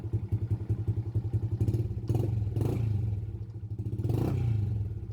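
Motorcycle started with its starter button: rapid rhythmic engine pulses, then a louder rumbling stretch with a few clattering knocks.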